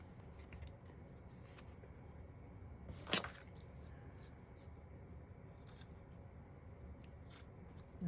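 Scissors trim a piece of paper for a circus-themed craft pocket with a single crisp snip in the middle, close but fairly soft, against a quiet room background.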